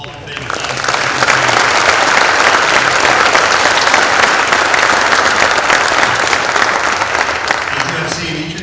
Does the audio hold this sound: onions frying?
no